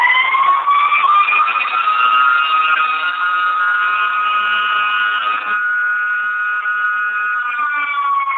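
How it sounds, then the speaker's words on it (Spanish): A loud, steady wailing fire station alarm siren holds a sustained tone with slight pitch wavering, sounding close and continuous throughout. "mira, el alarma."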